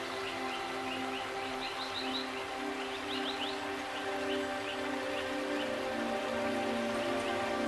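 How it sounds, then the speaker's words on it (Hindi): Steady rain falls outdoors in a natural setting, a constant dense hiss of drops on surfaces throughout, with a few faint bird calls in the background. "वाह कि वर्षा आज"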